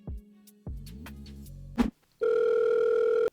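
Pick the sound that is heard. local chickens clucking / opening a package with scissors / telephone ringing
telephone ringing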